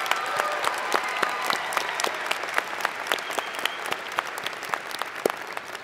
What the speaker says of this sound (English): Again, a round of applause for these remarkable students.